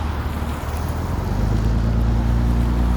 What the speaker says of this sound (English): There's a whole lot of traffic.